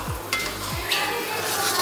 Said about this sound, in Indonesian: Nih ditumis tuh sampai mendidih